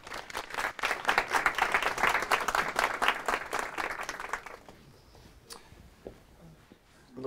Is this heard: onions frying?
no